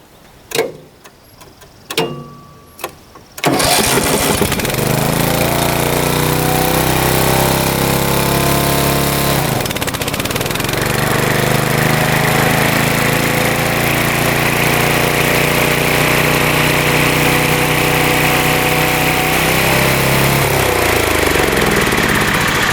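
An ATV engine with mower blades engaged, after a few clicks and a short pause it starts into a loud, steady, close roar that dips briefly partway through, then drones on evenly with no talk.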